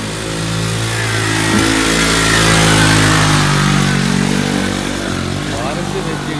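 An auto rickshaw with a weak engine labours and revs hard in rain, its tyres slipping on a wet village road; a steady, loud engine drone rises and falls over about six seconds as it pulls nearby.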